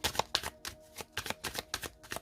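Tarot cards shuffled and cut by hand in a French tarot reading, giving a steady run of soft riffling, slapping bursts at close range, roughly ten quick strokes with no talking over them.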